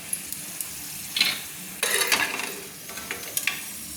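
Nuts, raisins and pistachios fry in a pan with a steady soft sizzle, broken by stirring scrapes and clinks of a utensil in bursts; no talking.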